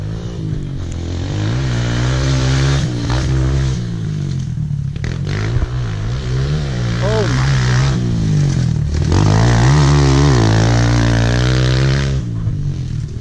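A Kawasaki KLX 140 pit bike engine revs hard through fast laps around a property, its loud, continuous buzz rising and falling with throttle changes across the whole stretch, with people talking over it.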